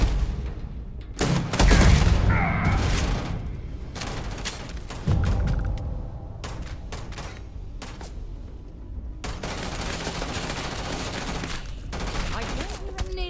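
Gunfire in the video game Starfield, several loud bursts of rapid shots and booming impacts with mechanical clatter, broken by short quieter gaps.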